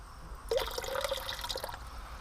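Water poured out of a gold pan while panning paydirt, a short close splashing pour with trickling and dripping, heard alone without speech.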